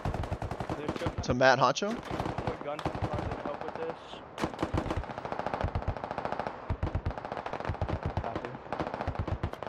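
Rapid bursts of automatic gunfire and single shots crack during a breach in the video game Squad, loud and close with a few echoing distant shots and a brief radio tone, while someone talks over the firing.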